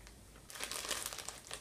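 Crinkling of a plastic snack bag of chip-like Mexican candy being torn and worked open, a steady close rustle lasting over a second with no talking.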